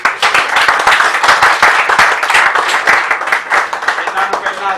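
An audience applauds guest Daljit Singh Ranu at a gathering, with steady dense clapping throughout and a voice speaking over it.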